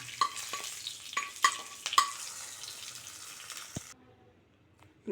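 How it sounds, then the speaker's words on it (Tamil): Ghee tempering with cumin and curry leaves sizzles and crackles in a small pan as it is stirred and poured into pineapple rasam, a few sharp pops over a steady hiss that falls quiet near the end. "சீரகம் பொரிஞ்சதும் ஒரு கொத்து கருவேப்பிலை போட்டு கிளறி விட்டு இப்போ ரசத்தில் சேர்த்துடலாம்."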